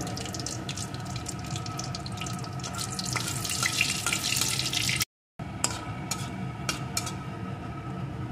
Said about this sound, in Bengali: এখন তেলের ভিতরে দিয়ে দেবো দুটো শুকনো লঙ্কা